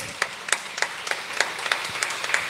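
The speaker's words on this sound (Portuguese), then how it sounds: "aplauda o Senhor, aplauda." A congregation claps in steady rhythm during a home worship service, roughly ten sharp handclaps landing about every quarter second over a soft background murmur, moderately near and fairly even in loudness.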